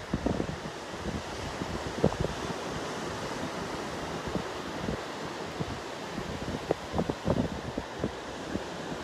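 Southern wind blowing at Pawleys Island beach on a summer morning, a steady rushing wind with crashing surf behind it and gusty buffeting on the microphone, continuous and fairly loud, with no talking.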